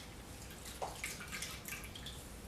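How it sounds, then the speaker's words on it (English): Hair extensions are dipped into a basin of conditioner-laced water, giving soft close splashes and trickling drips over a quiet background. "So I just dip it back in the same water and get the excess conditioner off."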